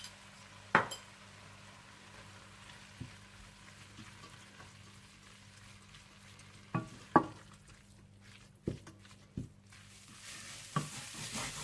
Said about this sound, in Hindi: गरम मसाला पाउडर, नमक और 1 टीस्पून जीरा पाउडर डालकर इसे अच्छी तरह से भून लें